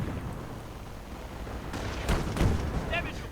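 Gunfire in a World War II real-time strategy game match, a muffled battle bed with a couple of louder bursts near the end, under a caster talking.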